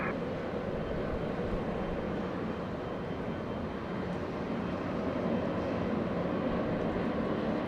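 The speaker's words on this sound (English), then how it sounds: "Delta Airlines at A321 lining up on 24 left." Delta Airlines Airbus A321 lining up on runway 24 left at Los Angeles International Airport, heard as a steady, heavy jet engine rumble and roar that holds evenly throughout, distant and without talk.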